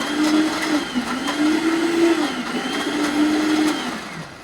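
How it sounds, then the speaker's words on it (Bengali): Kitchen blender whirring through lentils for dal at home, a steady motor drone holding for the whole stretch with slight pitch wobbles as the load shifts, close and loud with no talk over it. "ডাল ব্লেন্ড হয়ে গেছে"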